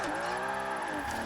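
A car drifting with the handbrake in Forza Horizon 4, played on a Thrustmaster TMX wheel, gives a sustained revving engine note with a sweeping pitch, steady and close for a brief moment.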